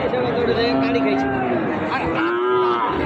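Cattle at a busy livestock market moo loudly and close by in long drawn-out calls that overlap one another, with a crowd murmuring underneath.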